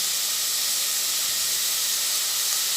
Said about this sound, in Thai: เราก็จะพัดนะคะพัดจนหมูสุก